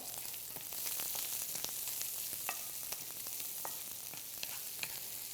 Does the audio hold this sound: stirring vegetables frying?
yes